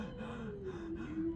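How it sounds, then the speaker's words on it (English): Heavy, ragged breathing in The Devil In Me horror game, a close drawn-out gasp and exhale repeating in uneven pulses with no talk over it. "Who's breathing like that?"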